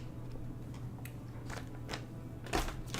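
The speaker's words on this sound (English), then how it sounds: "You just have to listen to the crunching of actual chocolate instead." Chocolate is crunched and bitten close to the mouth, giving a few scattered crisp chews over a low steady hum, with the loudest crunch near the end.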